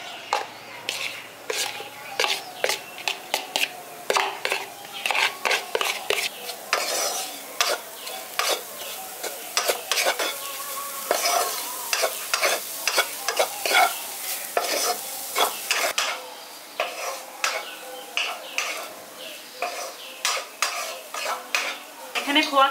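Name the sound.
khoa kheer being stirred and fried in a wok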